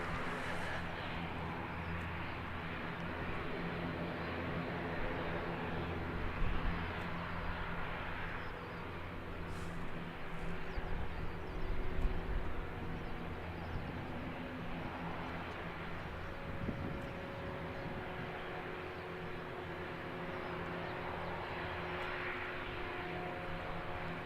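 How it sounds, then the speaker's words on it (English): An all-black ATR turboprop airliner arriving at Christchurch Airport from Palmerston North, a steady distant engine drone with a faint propeller hum lasting throughout, swelling slightly midway. "We've got the all black ATR coming in from Palmerston North, NZ5181"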